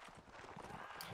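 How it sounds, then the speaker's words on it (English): Hooves of an artillery horse clip-clopping across the ground in a Mount and Blade Warband: Napoleonic Wars line battle, a steady rapid patter under dense, noisy battlefield ambience. "Is that artillery horse?"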